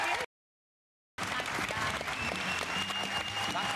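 After a short gap of silence, a television studio audience breaks into sustained applause, dense clapping continuing steadily and loudly to the end.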